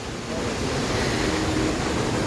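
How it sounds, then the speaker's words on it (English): The Edessa waterfalls in a park in Greece pour with a dense, steady broadband roar, loud and unbroken throughout, without talking. "You see more parts of the waterfall."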